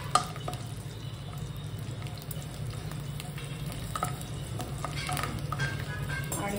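Garlic cloves sauté in a pan for a Solapuri-style peanut chutney, giving a soft, steady sizzle with light stirring scrapes, faint and close throughout.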